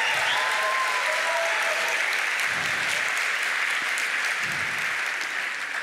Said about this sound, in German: Erstmal Applaus für Jane, danke schön.